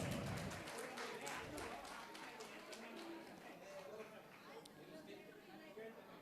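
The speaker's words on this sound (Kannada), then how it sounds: "ಜೋರಾದ ಚಪ್ಪಾಳೆ ಬರಬೇಕು ಈ ಕಿರು ಪ್ರತಿಭೆಗೆ." Crowd applause for a young performer at a golden jubilee cultural program: dense, steady clapping from an audience that fades gradually, with voices and chatter mixed in.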